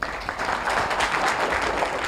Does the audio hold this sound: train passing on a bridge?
no